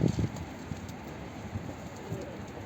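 A few soft, low pigeon coos at the start, then fainter cooing notes in a quiet outdoor setting.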